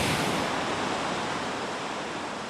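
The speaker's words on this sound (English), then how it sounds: "wave after wave came roaring in, creating giant splashes" Ocean waves roar and crash continuously against rocks and a natural tunnel on the Oregon coast, a loud, dense wash of surf with heavy splashing and no pauses.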